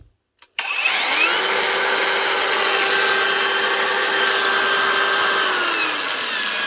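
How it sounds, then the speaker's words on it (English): Mellif cordless brushless angle grinder, compatible with Makita batteries, spinning up after a couple of clicks into a loud, steady high-pitched whine that holds for about six seconds, with no one talking. "Sounds like a standard brushless grinder"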